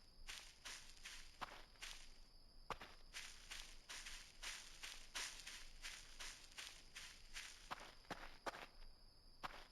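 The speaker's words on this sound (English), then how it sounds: "Heard footsteps." Footsteps in the video game Voices of the Void, a steady run of crisp, evenly spaced steps across about ten seconds at moderate loudness over a constant electronic hum, with no talking.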